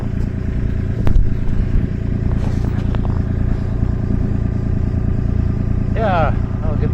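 A Subaru engine fitted in a 1982 VW Westfalia warms up at a steady, loud idle with a low droning hum, light mechanical clatter and a brief scraping chirp near the end.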